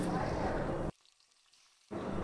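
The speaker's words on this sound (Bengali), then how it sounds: "খুন্তি দিয়ে দিয়ে মাছগুলোকে ভেজে একটা বাটিতে তুলে রাখলাম" Fresh fish fry in hot oil in a pan and are turned with a spatula, giving a loud steady sizzle that cuts out for about a second and then resumes.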